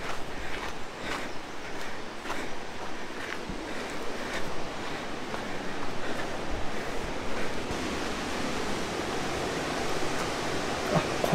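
Waterfall in Nishizawa Gorge, a steady roaring wash of falling water heard outdoors, broad and continuous with slight swells, no talking.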